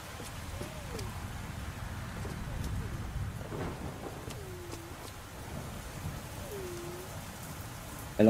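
Steady rain pours through a storm in the video game Eternal Hope, a constant even hiss with distant rumbles, while faint whining cries rise over it now and then.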